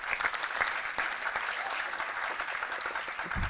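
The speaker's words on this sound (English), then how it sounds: "Can we clap for them?" Audience applause for the chief adjudicators at the Pan African Universities Debating Championship in Kampala: a steady, fairly faint patter of many hands clapping in a hall, continuous and even throughout.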